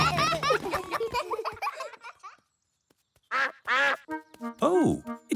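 A cartoon duck quacks in a Peppa Pig episode, several quick quacks after a stretch of lively character voices and a brief pause.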